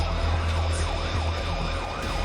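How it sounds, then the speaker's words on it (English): A police car siren wails in steady rising and falling sweeps during a high-speed chase, loud and continuous over a heavy engine and road rumble, with no voices. "When the deputy activated the lights and siren"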